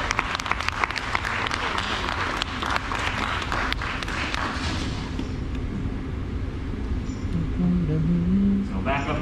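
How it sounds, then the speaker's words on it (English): Applause breaks out from an audience at a live glassblowing demonstration, dense clapping early that thins and fades, then gives way to background noise and a voice. "Let's give her a big round of applause."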